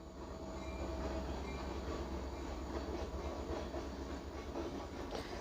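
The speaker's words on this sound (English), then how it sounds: "I have to take a break because there's a train coming." A train rolls past close by, a steady loud rumble of railcars with faint clickety-clack and occasional wheel squeal, no voices over it.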